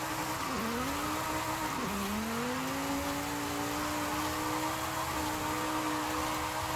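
A car in the racing game Forza Horizon 5 drives with a steady, droning engine note. The pitch dips sharply twice, then climbs and holds through a continuous run with no talking.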